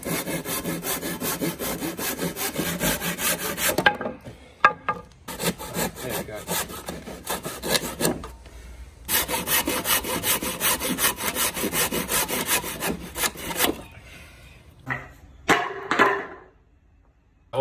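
A hand saw cutting timber for a DIY calf raise block, steady rasping back-and-forth strokes for about four seconds, then short pauses and further long runs of close sawing, ending with a few scrapes.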